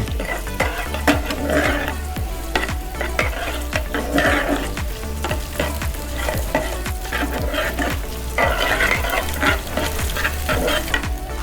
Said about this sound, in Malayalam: ഒരു രണ്ട് ചെറിയ ടീസ്പൂൺ കൊത്തി അരിഞ്ഞ ചെറിയ തേങ്ങാക്കൊത്ത് നമ്മൾ ചേർക്കും ആദ്യം അതൊന്ന് വറുത്തെടുക്കാം